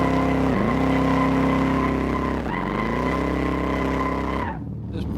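A Baldwin Motion Super Vegas with turbo boost roars hard and close, its engine revving up through the gears with tire squeal and rising pitch sweeps at each shift, loud and continuous before cutting off near the end.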